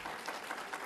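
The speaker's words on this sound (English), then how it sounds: "I'm not sure you're clapping for my endorsement or my disagreement" Audience applause at a panel discussion during an Israel summit, a steady wash of many hands clapping at moderate distance with no voices on top.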